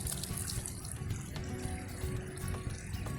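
Water being filled from a cold mountain stream in the Himalaya of Nepal, a steady splashing and gurgling pour with small drips, moderately close and continuous, no talk.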